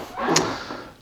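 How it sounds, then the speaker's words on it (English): Wooden floorboards in a hotel room give a single short creak underfoot, a brief dull groan with a small squeak at its peak. The creak is close and moderately loud against a quiet room, with no speech. "This floor's very creaky, isn't it?"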